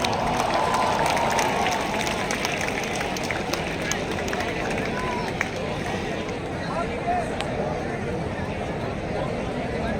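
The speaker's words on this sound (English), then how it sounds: "Can we have a huge round of applause?" Applause from a large audience at a college cultural festival event, a dense steady wash of clapping mixed with crowd noise that holds loud and even throughout.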